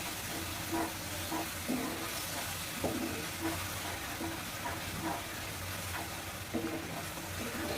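Ground spices such as cumin, turmeric and chili powder fry in a pan for a chicken curry, a steady low sizzle with soft periodic scrapes of stirring, fairly quiet and without talk.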